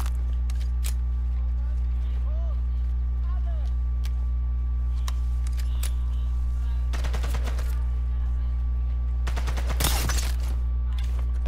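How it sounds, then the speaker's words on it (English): Bursts of light machine gun fire in the shooter game Sniper Elite 5, with rapid volleys of sharp shots around the middle and end and scattered single cracks over a steady low hum. "That LMG is gonna be a problem."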